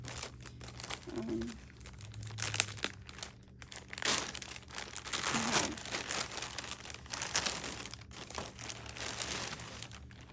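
Wrapping paper crinkles and crumples continuously as it is pulled away, with occasional tearing, close and fairly steady, and no talk over it.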